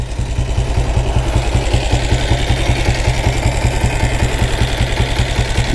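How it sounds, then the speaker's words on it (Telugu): A Taurus 325cc diesel Bullet motorcycle idles up close, its engine beating out a loud, steady, rapid knocking thump that stays even throughout with no voices. "ఈ డీజిల్ ఇంజిన్లో ఈ సౌండ్ ఉండే ఉంటుంది"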